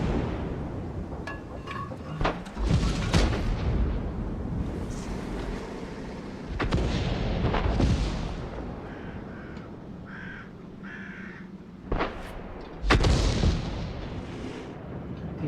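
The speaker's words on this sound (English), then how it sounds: "I wasn't really watching where artillery were shooting from." Booming artillery shots from World of Tanks echo across a battlefield, several heavy blasts spaced a few seconds apart with rumbling decay between them.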